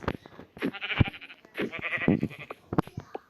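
Sheep in Minecraft giving several close, wavering bleats in quick succession, loud and clear with short gaps between calls.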